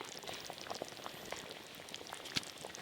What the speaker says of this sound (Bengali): মাটির হাঁড়িতে ঝোলটা একদম টকবক টকবক করে ফুটছে